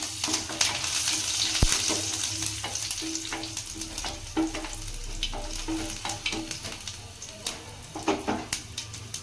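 Crushed garlic and curry leaves fry in hot oil in a pan, a steady close sizzle with crackling pops and occasional stirring scrapes.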